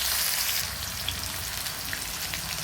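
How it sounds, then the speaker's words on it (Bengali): Diced potatoes frying in hot oil in a pan for a Bengali potato and shol fish curry, giving a steady, close sizzle throughout with faint crackles as they are stirred; no voices. "আলুটা একটু নেড়ে নেড়ে ভেজে নেব।"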